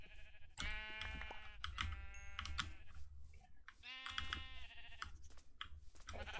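A sheep in Minecraft with the GregTech 6 mod bleats twice, wavering calls at moderate distance, with soft keyboard typing and mouse clicks underneath.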